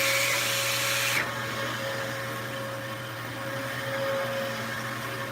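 A Dyson vacuum cleaner runs steadily and loudly throughout, a continuous motor roar with a steady whine whose brighter high edge drops away after about a second, with no talk.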